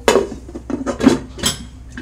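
Metal clanks and knocks as a lidded pot of mutton is set down on a gas stove, several close, sharp clatters in quick succession.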